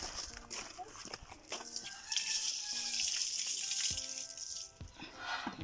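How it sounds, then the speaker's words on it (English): Running tap water splashing over hands being washed at a sink, a steady close rush of water with brief breaks and some talk over it. "wash your hands"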